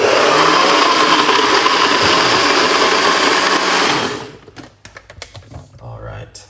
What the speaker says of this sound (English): let's blend this for few seconds